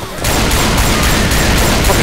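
Rapid, loud shotgun blasts in the zombie shooter Left 4 Dead 2, firing nearly continuously in a dense burst that starts abruptly and keeps going.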